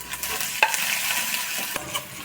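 Garlic and ginger sauté in a hot pan, a soft steady sizzle broken by a few spoon scrapes and stirring clinks, close and fairly quiet.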